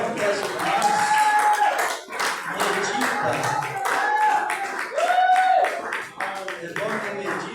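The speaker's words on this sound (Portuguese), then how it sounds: "não bata palmas, porque é lamentação" A church congregation claps hands in a steady, rhythmic beat during a worship service, with voices singing or speaking over the sharp, repeated claps throughout.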